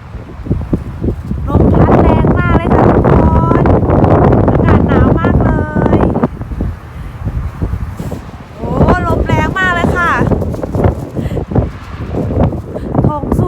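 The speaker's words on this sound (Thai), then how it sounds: "แถมยังลมแรงอีกตั้งหาก" Strong wind blowing outdoors on a cold day in Japan, loud gusty buffeting and rumble across the microphone, with someone talking over it throughout.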